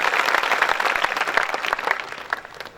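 A crowd at a night poetry gathering in Bhadhadar, Rajasthan, applauds to welcome the poet Jagdish Solanki, with dense and steady clapping that stays loud throughout and thins slightly toward the end.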